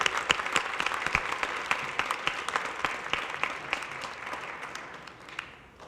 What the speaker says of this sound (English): I want to have everyone give you all a big round of applause to get started